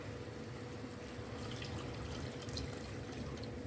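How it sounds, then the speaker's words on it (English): Steady splashing of water pouring into a cooking pot, a continuous faint gurgling stream with no talking. "So I'm going to put in my water."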